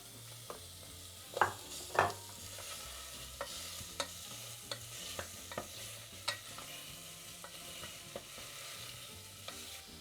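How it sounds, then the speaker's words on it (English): Meat frying in a pressure pot while pepperpot is being made, with a low steady sizzle under repeated scraping and stirring taps, two sharper clanks early on, heard close with no talk. "we heat or fry the meat until it's lightly brown on all sides"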